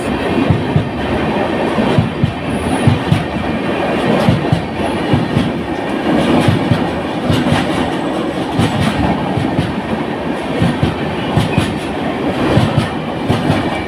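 Saraighat Express, a 24-coach train, running along rail tracks as it picks up speed, with a steady loud rumble and rhythmic wheel clatter throughout, no voices.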